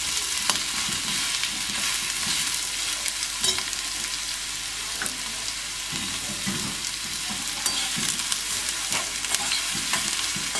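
Sliced onions fry in coconut oil with a constant, bright sizzle, punctuated by soft scraping and stirring taps of a utensil in the pan, close and without any voices.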